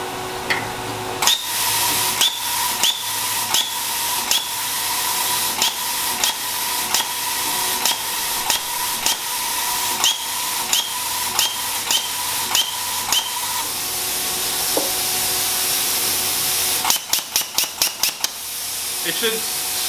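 A plasma cutter torch blowing air without striking an arc: a steady loud hiss with a regular series of sharp clicks throughout, ending in a quick cluster of clicks.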